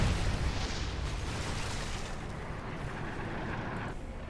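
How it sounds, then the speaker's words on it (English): A loud, sustained explosion rumbles through a StarCraft 2 pro match between Maru and Reynor at DreamHack Masters Valencia 2022, likely a nuke, with dense broadband roar holding steady for about four seconds and no voices. "There is the explosion."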